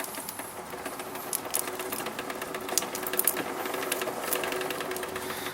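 Snow blower tire and drive sprocket on a White MTD 8.5 26-inch machine, spun by hand, giving a steady whirring, clicking mechanical rattle up close with no talking.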